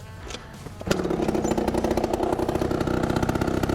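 A quad bike engine catches after a kick start, a brief clatter then settling into a loud, steady, close mid-pitched idle with a rapid regular throb.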